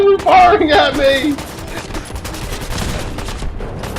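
Gunfire in Fallout 4's Far Harbor DLC crackles as a rapid burst of shots behind a player's voice, then trails off into scattered distant fire.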